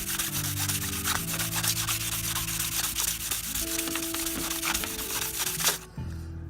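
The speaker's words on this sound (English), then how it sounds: "I'm going to sand the hairline grooves out of the rail." Fine sandpaper rubbed back and forth along the rail of a hand-laid dual-gauge model railway turnout, a steady close scratchy rasp running continuously for several seconds before stopping.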